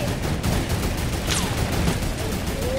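Video game gunfire rattles in rapid, dense bursts throughout, a steady crackling volley of shots with a faint whistle passing overhead.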